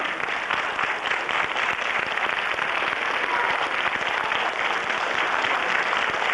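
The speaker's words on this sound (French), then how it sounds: "applaudit très fort ces mannequins d'un jour, ces révolutionnaires, le roi, la reine et les bourgeois." Audience at a live show applauding loudly after a performance, a dense continuous wash of clapping from many hands that holds steady and full for the whole stretch with no talk over it.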